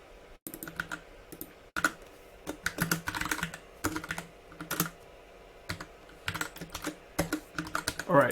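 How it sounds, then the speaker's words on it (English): Fast irregular typing on a computer keyboard, close and crisp, with clustered bursts of keystrokes and short pauses between them and no speech. "I just can't type today."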